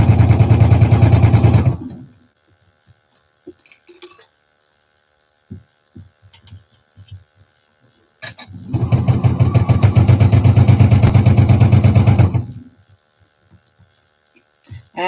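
A sewing machine stitches jacket lining fabric for a blazer, running slowly with a loud, steady motor hum in two long bursts separated by a quiet pause filled with light handling noises.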